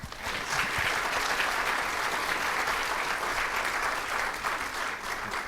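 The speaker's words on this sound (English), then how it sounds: "Let's give her a round of applause." Audience applause fills the room at a business council luncheon, a dense, steady wash of many hands clapping at an even loudness for about five seconds before it starts to thin near the end.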